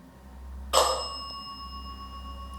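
During a ghost-hunting session, a single bell strike rings out sharply and loudly, then leaves a clear metallic ring that decays slowly over a low steady hum, with no voices.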